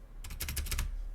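Rapid burst of keystrokes on a budget custom computer keyboard, about eight crisp clacks in quick succession, close and clear over a low hum, with no talking.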